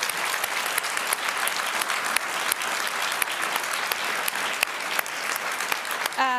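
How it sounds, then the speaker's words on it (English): Sustained audience applause fills a conference hall at a NATO forum, steady dense clapping from a large crowd with no voices rising above it. "If you're clapping me out, that's not a good sign."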